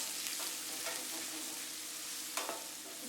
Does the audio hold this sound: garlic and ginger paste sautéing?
yes